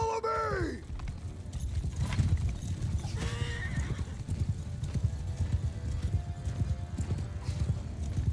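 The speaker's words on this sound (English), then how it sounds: "Oh yay, 2 annoying horse archers." Horses gallop with rapid clip-clop hoofbeats and a sharp whinny during a Mount & Blade II: Bannerlord battle, the hooves pounding steadily and loudly amid battle noise.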